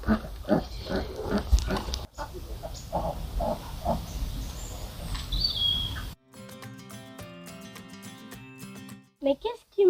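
Pigs kept outdoors on a farm grunt and snuffle close by for several seconds, with birdsong around them. The scene then cuts abruptly to a stretch of music.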